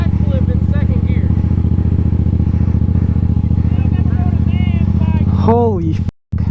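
Stunt motorcycle engine idles with a loud, steady, close-up rumble, and voices talk over it before the sound cuts off near the end.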